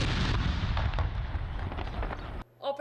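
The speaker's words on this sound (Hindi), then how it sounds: "दिन का आगाज 21 तोपों की सलामी से हुआ।" A 21-gun cannon salute at a ceremony in Lahore marking a day of thanksgiving, heard as loud booming blasts with rumbling echoes. It cuts off near the end as a brief voice begins.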